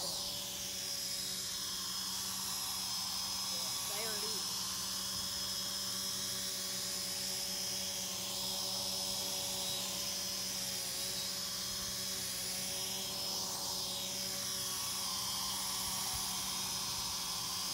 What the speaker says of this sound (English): Okay, restart the drone.